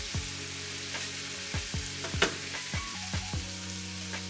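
Ground beef browning in a pan for baked beans, a steady sizzle and crackle with a few sharp scraping and stirring knocks spread through, close and alone with no talk.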